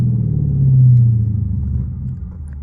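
A Scat Pack 392 V8 downshifts during a late-night drive in the rain, giving a loud, deep engine rumble heard from inside the car that swells briefly, then settles and eases off.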